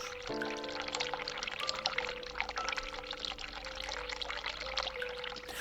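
Tap water pours steadily in a bathroom while hands are washed in The Cat Lady video game, a continuous rushing stream with a steady game drone under it and no talk.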